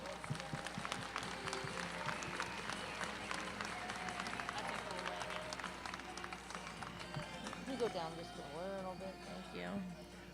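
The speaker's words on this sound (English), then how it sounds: "Would you give them a nice round of applause?" At a youth team driving competition, an audience claps and cheers for the young drivers, steady crowd applause with a voice speaking over it.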